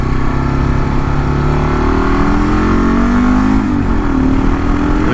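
A 2022 Kawasaki KLR 650 single-cylinder motorcycle accelerating onto a highway, its engine note loud and close and rising steadily in pitch through the gears, with steady wind and road noise underneath; no talking.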